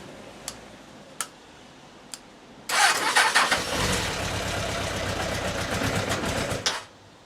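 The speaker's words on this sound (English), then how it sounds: "I ain't started the bike up for a long time. Will it bloody start?" An old motorbike engine, started without choke, rattles into a fast, ragged idle after three quick clicks. It runs loud and close for about four seconds, then cuts out.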